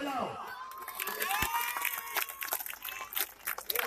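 Crowd noise at a political public meeting in Govandi, excited shouts and cheering voices close by with scattered claps and movement, fluctuating in loudness.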